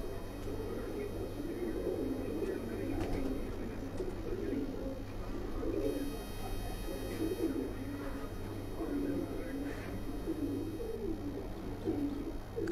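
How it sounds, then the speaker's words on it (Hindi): A large pigeon coos from a rooftop loft, low soft repeated calls running steadily through a constant background hum, with other birds faintly around. "ये बड़ा कबूतर है।"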